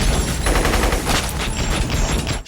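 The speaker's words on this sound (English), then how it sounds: "like slow motion gunfire" Slow-motion gunfire effect from The Matrix, a dense, loud, continuous roar of stretched, smeared shots with rhythmic pulsing throughout, no voices.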